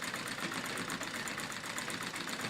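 A treadle sewing machine quilts through denim, a steady, rapid mechanical chatter of stitching that runs close and continuous with no talking.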